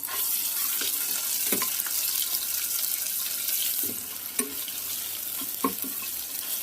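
Ginger garlic paste frying in a pan for ulavacharu gives a steady, close sizzle with faint stirring scrapes now and then and no talking.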